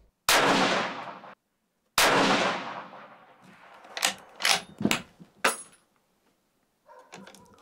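Bergara B14 Crest bolt-action rifle fired twice for a group, each a sharp loud crack with a long echoing decay, followed by several short metallic clanks of the action being worked.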